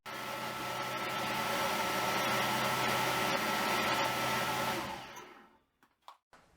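Newly mounted studio exhaust fan motor running with a steady loud whir and hum, cutting off near the end and spinning down into quiet with a few faint clicks.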